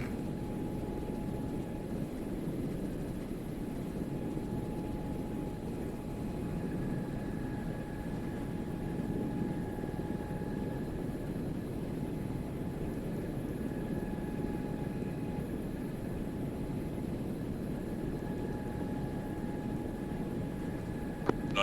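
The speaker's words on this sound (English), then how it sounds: "Icarus, if you can start spooling, that would be ideal, and we'll load" Helicopter engine in a military video game spooling up, a steady continuous rotor and turbine drone with a faint rising whine, constant and fairly close throughout.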